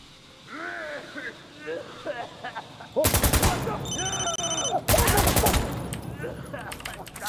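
Sustained automatic gunfire in the shooter game Insurgency: Sandstorm, two loud, rapid bursts, each lasting a couple of seconds, after quieter voices talking; talk continues under the shooting.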